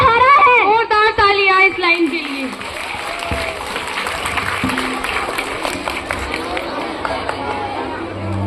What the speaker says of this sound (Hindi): और तालियां इस लाइन के लिए।